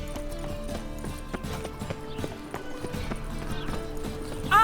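Horse hooves clip-clop in a steady walking rhythm in The Witcher 3 video game, moderately close and fairly quiet, with a brief higher squeal at the very end.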